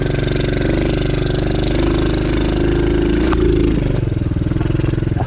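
A DB14 dirt bike engine runs loud and close, a rough steady buzzing putter with the pitch shifting slightly as the throttle changes, no talk over it.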